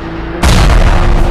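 In Sakura School Simulator, a rocket launcher shot erupts as a single abrupt, loud boom, with a thick rumbling blast that sustains to the end.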